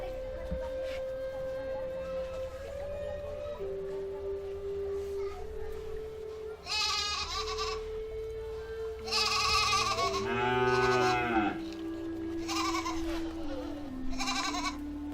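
Goats bleat repeatedly in a rural Nepali setting near Janakpur, several loud wavering calls close by, with a persistent tonal background and people talking.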